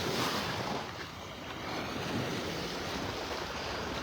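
Ocean waves washing onto Vanderbilt Beach in North Naples, Florida, with the tide going out, a steady broadband rush of surf mixed with wind buffeting the microphone, no voices.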